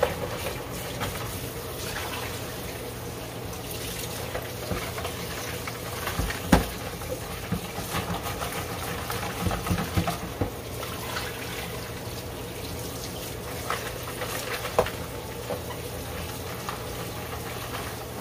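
Crab soaked with squeezed lime is rinsed under running water, a steady, moderate wash with occasional small knocks and clicks.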